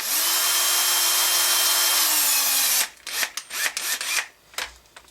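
A power tool drives screws into a Turtle Racing rear transmission plate, starting with a nearly three-second continuous whir whose pitch dips slightly as it slows, then breaking into several short, choppy bursts. The sound is close and loud, with no talking.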